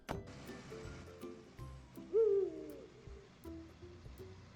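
An owl hoots at night in a driving video game, one clear hoot rising above a quiet backdrop of faint rustling, soft engine hum and occasional small knocks.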